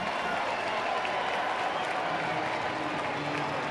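Baseball stadium crowd giving a Bronx cheer after a walk at a Yankees–Boston game, a steady broad wash of mixed applause and jeering voices that holds level throughout without a break.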